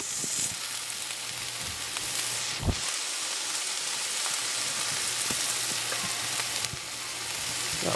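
Hot pan sizzling steadily while heating for a honey mustard ham hash, a continuous close hiss with a few brief clicks and knocks, no voices.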